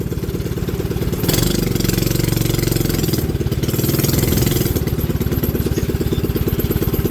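A go-kart's small engine runs loudly and close by with a rapid, steady putter, and its pitch rises and falls as the throttle is blipped a couple of times, with no voices.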